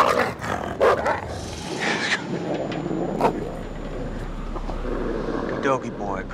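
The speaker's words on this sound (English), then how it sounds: "Good doggy boy, calm down" A dog in the Until Dawn video game gives a few barks and growls amid game ambience, with someone talking over it at moderate level.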